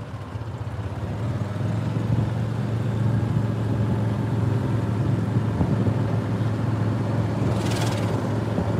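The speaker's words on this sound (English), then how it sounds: "Is this anybody's first time on my golf cart ride?" A golf cart hums along a road in The Villages, Florida, giving a steady, fairly loud motor drone with wind and road rumble throughout and no talking.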